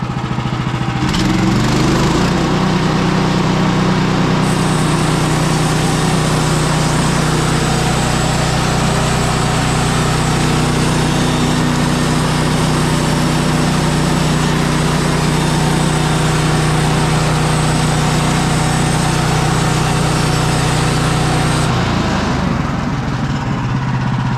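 A sawmill cutting a log into a slab, its engine running as a loud steady drone throughout, with the blade's pitch settling as the cut goes on and easing near the end, close and continuous with no talk.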